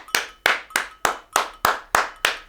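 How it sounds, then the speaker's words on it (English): A single pair of hands claps eight times in a steady, evenly spaced rhythm, each clap sharp and close with a brief decay, no talk. "Let's go ahead and clap it up for you guys."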